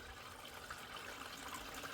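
Water flows steadily through a gold prospecting setup, a continuous soft rushing and trickling with no voices.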